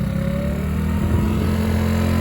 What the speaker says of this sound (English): This is just moving around, but I'm revving it up.